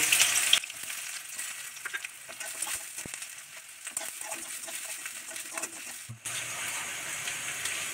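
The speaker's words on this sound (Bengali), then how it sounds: "তেলটা গরম হয়ে গেছে, এবার আমি এর মধ্যে কুচনো পেঁয়াজগুলো দিয়ে দেবো।" Chopped onions go into hot oil in a pan for a pointed gourd korma, a sharp burst of sizzling that settles into a steady, close frying hiss with a short dip near the end, and no speech.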